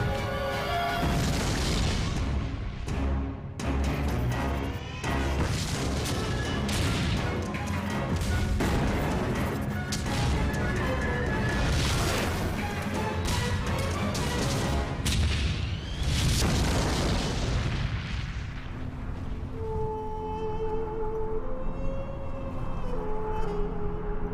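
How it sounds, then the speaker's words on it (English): Dense, continuous booming explosions and heavy rumble from a tank battle in the desert, loud and layered throughout, tapering into a quieter tonal stretch near the end. "Two tank armies clash on a remote strip of desert."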